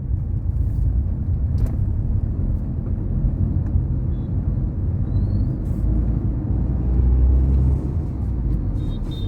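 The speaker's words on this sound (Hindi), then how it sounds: "और मेरी गाड़ी में रैटलिंग भी आप सुनते रहना थोड़ा" Inside a moving car, a deep road and engine rumble fills the cabin, and a previously banged-up door makes rattling noises. The drone is continuous, with only faint, occasional light ticks above it.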